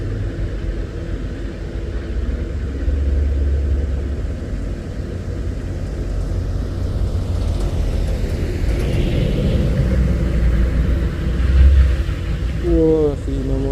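A heavily loaded trailer truck climbs slowly uphill, giving a continuous low engine rumble and drone that stays steady throughout and ends with a short rising whine.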